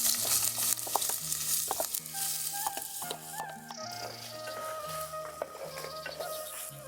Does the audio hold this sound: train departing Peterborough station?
no